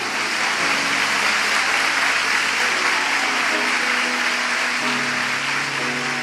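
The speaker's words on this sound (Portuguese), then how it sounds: "Você pode aplaudir o Senhor por isso?" A church congregation applauds loudly and continuously, a dense wash of clapping sustained throughout with tonal music humming underneath.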